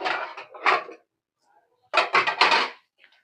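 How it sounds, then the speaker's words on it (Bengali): A lid clatters onto a cooking pan in a home kitchen while an egg curry with peas, potatoes and cabbage cooks, in two short bursts of metallic rattling and knocking separated by a pause. "আমি এখন ঢাকা দিয়ে দিই"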